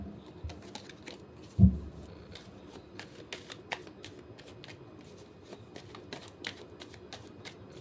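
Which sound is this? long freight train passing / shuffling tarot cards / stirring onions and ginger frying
shuffling tarot cards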